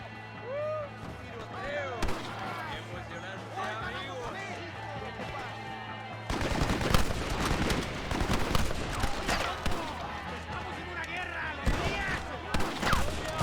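Rolling block rifle fire in the Western video game Red Dead Redemption, with sharp shots and gunfire cracking over busy music and ambience. The firing gets denser and louder in the second half, and voices are heard throughout.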